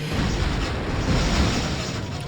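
An explosion crate bursts during a car race in Demolition Racer: No Exit, a loud, dense, rumbling blast that fills the moment without a break.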